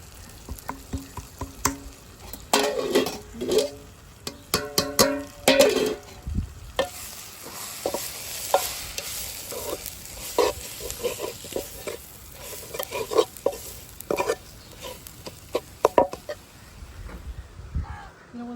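Tomato, onion and spice powders like cumin and coriander fry in a pan for a fish curry, a soft sizzle broken by repeated scraping and clattering strokes of a stirring spoon.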